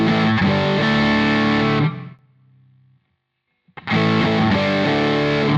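Electric guitar played through a modified Rat distortion pedal with its distortion knob at about half, giving thick, loud sustained chords that cut off into near silence for about two seconds before the distorted playing returns just as heavily.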